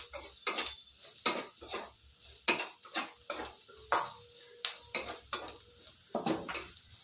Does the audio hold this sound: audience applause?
no